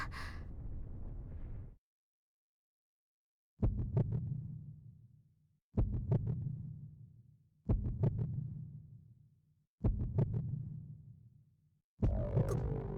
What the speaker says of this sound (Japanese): 暗黒竜の鼓動